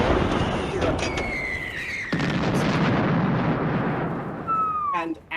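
A cannon fires on a ship's deck amid combat, a heavy booming burst midway through, surrounded by whistling, sweeping tones and dense rumbling effects.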